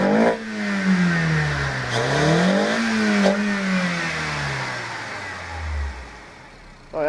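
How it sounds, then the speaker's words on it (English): A 2006-2009 Honda Civic R18 engine with a cold air intake is revved up and down several times at close range, its pitch climbing and falling in repeated sweeps before settling back toward idle. "Go ahead and rev it."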